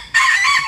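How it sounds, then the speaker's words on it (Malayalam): A fancy ornamental chicken breed from Kerala lets out a single short, loud, close crow lasting about half a second. "ഇന്നിപ്പം കേരളത്തിൽ വളരെ പ്രചാരത്തിലുള്ള ഒരു ഇനം കോഴികളാണ്"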